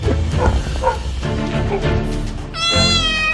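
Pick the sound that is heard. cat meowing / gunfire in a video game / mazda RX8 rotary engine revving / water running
cat meowing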